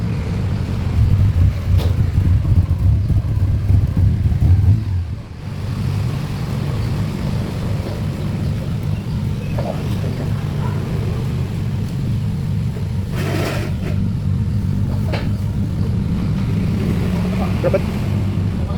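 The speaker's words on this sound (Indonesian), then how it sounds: "ya mati-mati terus RPM-nya tuh turun, drop langsung jadi mati" A Honda Accord engine rumbles steadily at idle, dips noticeably a few seconds in, then keeps running low and uneven while people talk nearby.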